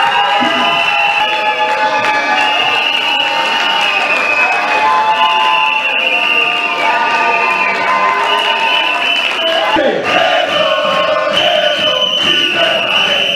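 A large crowd at a public gathering keeps up loud, continuous applause, cheering and shouting as a speaker is called up, with raised voices and a steady roar throughout.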